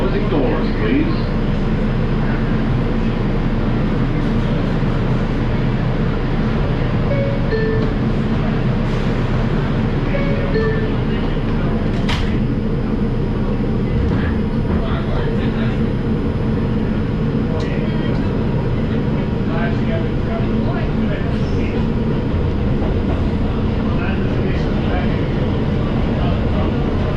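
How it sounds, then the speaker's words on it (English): A New York City R142 subway car on a Bowling Green bound 5 train rumbles along at speed, a constant loud roar of wheels and motors with occasional squeals and clanks, heard from inside the car. "This is a Bowling Green bound 5 train."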